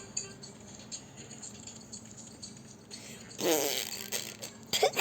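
A fart sound effect in a Roblox game, a burst of raspy noise near the middle followed by a shorter second blast near the end, over faint background game sounds.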